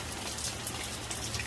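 Steady rain falls outdoors, a soft, even hiss of drops with no voices, faint and unbroken throughout.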